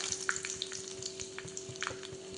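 Mustard seeds crackle in hot oil in a pan for a lentil and taro-leaf curry, with small scattered pops over a steady faint sizzle and a low constant hum.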